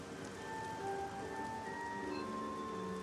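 Rain falls in the video game Marvel's Midnight Suns, a soft steady patter on surfaces, faint and even throughout with light tonal game ambience underneath.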